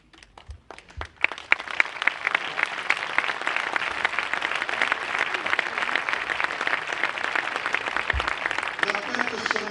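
Sustained applause fills an arena in Saint-Rémy-de-Provence for a bull-breeding family's anniversary celebration: a few scattered claps swell quickly into dense, continuous crowd clapping that holds steady for nearly ten seconds.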